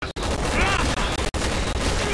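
Rapid gunfire from the Resident Evil 6 video game, Chris's story on a pier, sounding as dense continuous bursts that fill the clip with only brief gaps, loud and close, with faint talk underneath.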